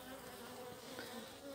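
Honey bees from a weak colony hum in a steady, dense drone at an opened hive, close and continuous without a break.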